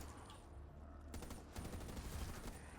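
Gunfire in the video game Black Ops 3 with mod tools, a series of quick, sharp shots rattling off over a dense, noisy game background, heard fairly faintly and without talking.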